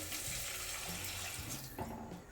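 Water runs steadily from a tap into a pot being filled for cooking semolina, a continuous close splashing rush with no talk.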